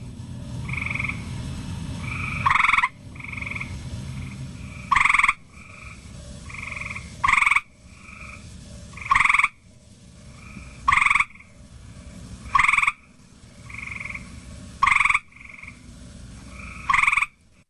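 A recorded frog call plays back during a volunteer training session, loud sharp croaks repeating in regular bursts about every two seconds over a steady low background chorus, with no talking.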